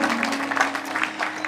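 A graduation ceremony crowd applauds a teacher walking across the pitch, producing a dense, steady wash of clapping at moderate volume for the whole short stretch.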